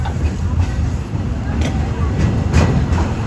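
Walt Disney World Railroad train riding between Fantasyland and Frontierland: a loud, close rumbling ride with rhythmic wheel clatter and a few sharp clicks over steady low noise.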